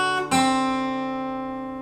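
Guitar plays the opening notes of bar 2 of Shufflin' Blues, though only one clearly plucked note is evident, ringing and slowly decaying after a brief muted start, close and alone.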